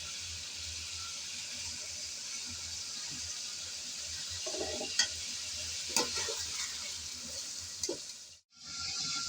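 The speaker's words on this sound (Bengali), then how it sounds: "কিছুক্ষণ নেড়েচেড়ে আলু আর গাজর ভেজে নিলাম।" Potatoes and carrots fry in oil with a steady broadband sizzle, stirred now and then with a few spoon scrapes and clicks near the end before a brief gap; no voices.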